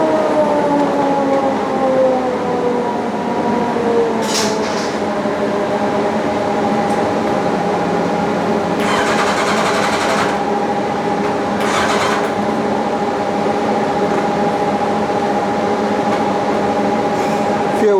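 A 1990 Kawasaki ZZR1100 motorcycle engine revs on a dyno during a power run, a loud sustained drone whose pitch rises steadily, with brief bursts of noise partway through.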